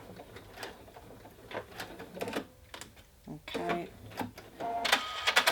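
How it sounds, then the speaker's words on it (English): A sewing machine reverse stitching at the end of a seam on a continuous placket, heard as short mechanical whirring bursts between pauses while a person talks over it. "And then I'm going to reverse stitch at this end."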